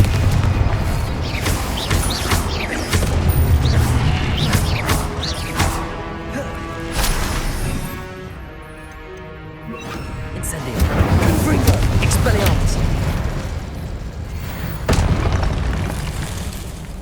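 Repeated Confringo fire spell explosions from the Hogwarts Legacy video game boom loudly across a long stretch, with crashing impacts, dense rumbling and brief dips between the blasts.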